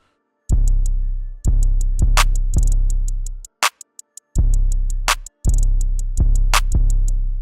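A programmed Tay-K-style trap drum beat with heavy booming kicks, crisp ticking hi-hats and sharp clap hits, pausing briefly midway before the loop resumes.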